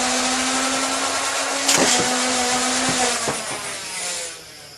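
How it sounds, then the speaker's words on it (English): A Nerf Ultra 2 blaster's motorized flywheels spin up with a steady, loud whirring hum, cut by a few sharp clicks or shots partway through, then wind down and fade out near the end. "Let's give it time to rev, fire a few shots through the chronograph."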